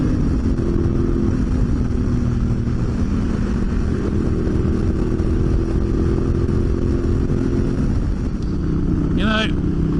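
A Honda motorcycle with a 21-inch front wheel and knobby tyres riding on a road, its engine droning steadily and loudly under heavy wind rush, with a brief rising whine near the end.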